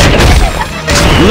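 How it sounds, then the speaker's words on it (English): A heavy machine gun fires in the Metal Slug arcade game, a loud dense burst of booming shots that stops briefly and then resumes, mixed with game sound effects. "Heavy machine gun!"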